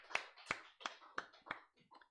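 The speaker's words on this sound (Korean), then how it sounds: "하나님께 영광의 박수 돌려드리겠습니다" Hand claps at a Korean Full Gospel church Sunday service, about six evenly spaced claps in a steady rhythm, faint and somewhat distant, fading toward the end.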